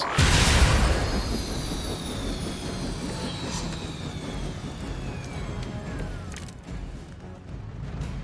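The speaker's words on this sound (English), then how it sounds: "The helicopter is back in action." Helicopter in the Marvel's Midnight Suns video game: a steady, loud rotor and engine roar that fills the scene, with descending whine tones sliding down over it.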